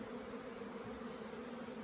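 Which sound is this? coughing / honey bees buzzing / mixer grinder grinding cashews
honey bees buzzing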